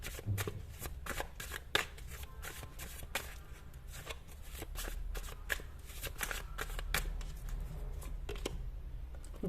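Tarot cards are shuffled by hand in a quiet room, a soft, close run of repeated riffling slaps and papery flicks that continues steadily throughout.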